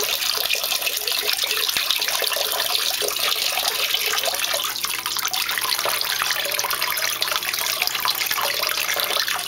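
Water pours steadily down the face of a SantaMonica 25 algae scrubber test setup, a continuous close hiss and splash at an even level the whole time.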